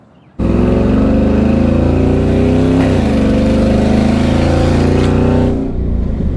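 A car engine bursts to life and roars loudly, holding a heavy, sustained rev for several seconds before dropping away abruptly.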